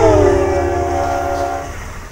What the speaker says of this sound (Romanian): același fenomen are loc la trecerea unui tren pe lângă noi, așa cum puteți vedea și auzi imediat.